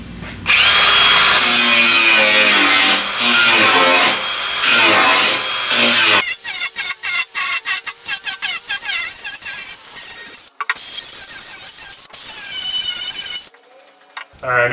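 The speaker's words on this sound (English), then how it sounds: "I'm going to go ahead and clean this up as well, since I have the wheel and the grinder that I need" An angle grinder runs with a grinding wheel, cleaning up welded metal parts in a shop, loud and continuous at first, then breaking into bursts of grinding and short pauses.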